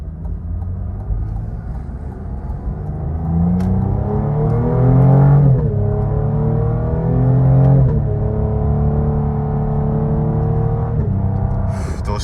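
A 2022 Cadillac CT5 550 engine revs hard and climbs through the gears, its drone rising and dropping at each of several shifts, with sharp exhaust pops, loud and close, and no talk.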